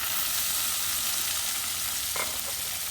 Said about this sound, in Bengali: পেঁয়াজগুলো আবার নরম হয়ে গেছে, এখন আমি টমেটোগুলা দিচ্ছি এখানে।